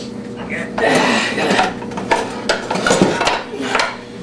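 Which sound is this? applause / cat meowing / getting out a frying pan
getting out a frying pan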